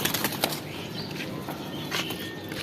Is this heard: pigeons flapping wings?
yes